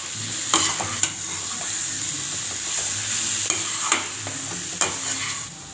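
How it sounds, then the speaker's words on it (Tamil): Curry leaves stirred into a frying pan of yam masiyal, with a steady sizzle of hot oil under scraping spoon strokes and a few sharp clinks against the pan, close and alone with no talk. "கருவேப்பிலை சேர்த்துட்டு நல்லா கிளறி விட்டுக்குங்க."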